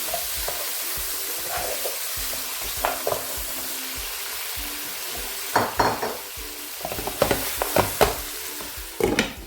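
Egusi soup ingredients, including beef and ginger powder, are stirred in a hot pot. Soft steady frying sizzle runs throughout, with a scattering of sharp spoon scrapes and clinks against the pot toward the end.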